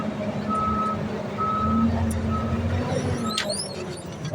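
Reversing truck on a hill road, its backup alarm beeping steadily in evenly spaced tones over a low rumbling engine, with a brief squeal near the end.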